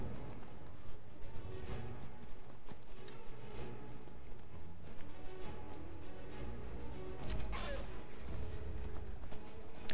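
Horse hooves clopping at a steady riding pace in the Skyrim video game, a continuous rhythmic patter mixed with game ambience and occasional louder thuds, with a voice talking over it.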